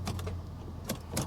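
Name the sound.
Mercedes SL63 AMG starter clicking without cranking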